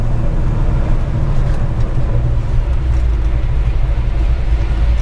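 A 1961 Pontiac Catalina with a 421ci V8 and a four-speed gearbox pulls hard through its gears, a loud, steady, low engine roar filling the whole stretch with no talking.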